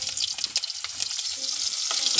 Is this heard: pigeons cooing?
no